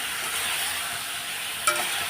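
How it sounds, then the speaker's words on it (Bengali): Spices for a fish curry are sautéed in a wok, giving a steady close sizzle and hiss of hot oil with a brief clink near the end. "এই যে কষিয়ে নিচ্ছি এখন কিছুক্ষণ কষিয়ে নিয়ে তারপরে জল দিয়ে দেবো"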